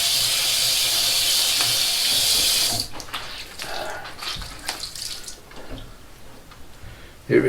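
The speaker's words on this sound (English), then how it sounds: "Let's wash everything down and see how we did. Some nice cold Lake Michigan water here." Cold Lake Michigan tap water rushes steadily from a faucet for a rinse after a shave with a Rockwell 6C razor, then cuts off into softer splashing and dripping close by.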